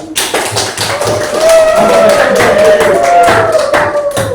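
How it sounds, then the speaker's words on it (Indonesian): Children in a classroom group clap rhythmically for the elephant team, with steady, close taps carrying a sung or chanted tone over the clapping. "Tepuk tangan buat kelompok gajah."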